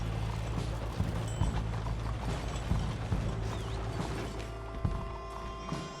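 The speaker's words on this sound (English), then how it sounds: "Another horse is walking in poop." Horse hooves clop at a slow walk across a dirt town street in Red Dead Redemption 2, steady muffled footfalls under a continuous low ambient rumble with faint mechanical creaks.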